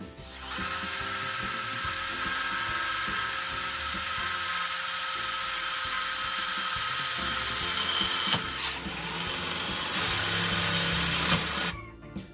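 A Ronix 8018 cordless three-mode drill drives roofing screws through a metal roof sheet into a 1.5 mm steel frame, a loud steady whine running almost unbroken for about eleven seconds before cutting off.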